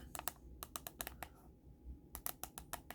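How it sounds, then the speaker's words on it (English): Typing on a Gecen mini wireless keyboard, quiet close clicks in quick bursts separated by a short pause. "let's do a test here with the keyboard"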